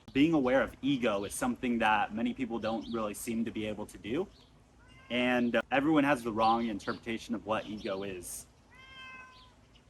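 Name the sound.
cat meowing in the background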